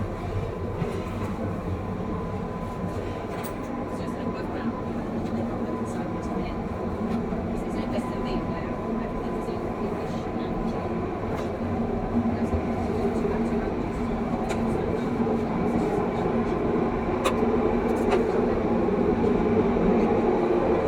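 Heathrow Terminal 5 transit train pulling away from Platform 6 into a tunnel, a steady loud rumble of wheels and motors with faint clicks, while someone narrates throughout.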